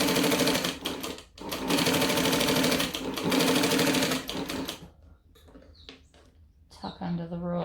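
A sewing machine runs in fast, steady bursts while stitching fabric, loud and close, with short stops between runs, then quieter clicks and handling noises as the machine sits idle.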